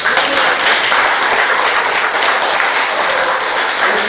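Loud, sustained applause from a crowd at a farmers' cooperative meeting, dense clapping that holds steady throughout without talk.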